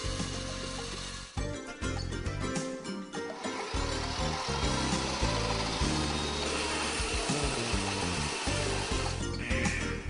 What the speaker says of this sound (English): Begin cutting when the power tool has reached a sufficient rotation speed.